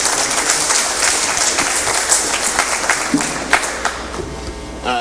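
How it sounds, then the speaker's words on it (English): A conference audience in Panama applauds its organizers in a dense, sustained wash of clapping that fills the whole stretch, with scattered louder claps near the end and no talking over it. "if we can give it up for Ira and his amazing team"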